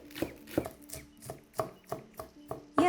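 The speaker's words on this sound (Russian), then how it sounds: "Мелко нарезаю лук" A knife finely chops onion on a cutting board, about nine close, evenly spaced knocks in a steady rhythm, with no talking.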